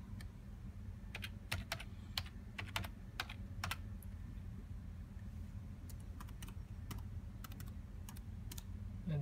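Fingers tapping a computer keyboard to enter a username and passcode, scattered quick key clicks in short clusters over a steady low hum, close and fairly soft, with no speech.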